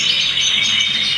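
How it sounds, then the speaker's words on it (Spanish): Male canaries sing in a continuous high, warbling trill with rapid chirps, loud and close, with no talking. "Uno puede cantar más, otro menos, otro menos, pero todos los machos cantan."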